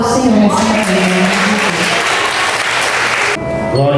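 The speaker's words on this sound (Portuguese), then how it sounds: "Aplauda o Senhor nessa manhã" A church congregation claps loudly and continuously during a Sunday morning service, with music playing underneath before the applause cuts off and the music carries on alone.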